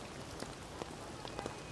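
Steady rain falls on a flooded park pathway in central London in November, a constant close hiss dotted with a few sharper drop splashes, with no voices.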